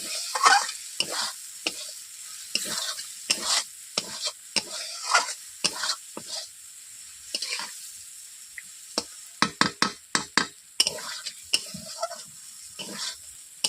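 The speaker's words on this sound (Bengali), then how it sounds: "চিংড়ি মাছের কারি করবো তার জন্য আমি ভেজে একটু মশলার সঙ্গে কষিয়ে নিলাম" Prawns fry in spices for a curry while being stirred in the pan, with a steady sizzle and repeated sharp scraping clinks of the spoon in uneven bursts.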